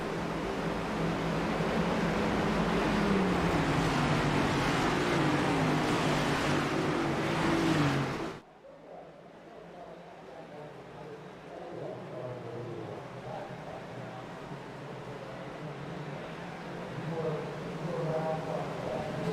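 Race car engines roar loudly in the iRacing video game at a superspeedway in Next Gen cars, a dense pack drone that cuts abruptly to a quieter, distant engine hum with a commentator talking throughout.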